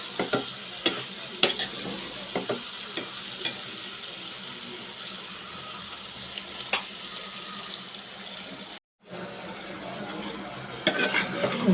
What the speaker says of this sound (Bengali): একটা টমেটো চিকন চিকন করে কেটে দিয়ে দিলাম, দিয়ে আরও 5 মিনিট এটাকে কষিয়ে নেব।